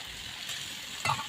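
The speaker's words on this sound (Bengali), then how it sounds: "চিংড়ি মাছ দিয়ে আবারও কচু শাকগুলো খুব ভালো করে নাড়াচাড়া করার পর" Taro leaves and pre-fried shrimp are stirred in a pan, giving a faint, steady sizzle with a brief louder scrape of the spatula near the end.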